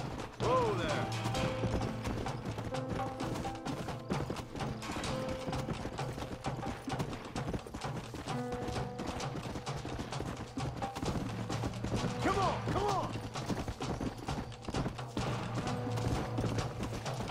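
A horse gallops in the video game Red Dead Redemption, its steady hoofbeats running continuously under game music and effects, with occasional talk over them.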